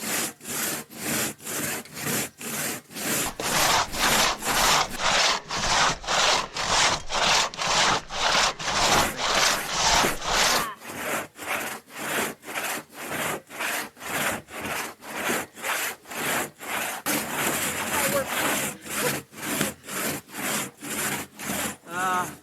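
A hand saw cuts through a wooden log on a trail, with loud, even back-and-forth strokes in a steady rhythm of roughly two per second, close by, continuing throughout without speech.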